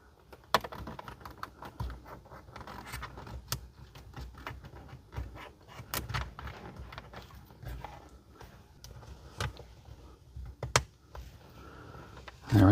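Dashcam wires are tucked under a car's plastic interior trim, giving a scattered run of small plastic clicks, taps and rustles, some sharper snaps standing out, close and fairly quiet.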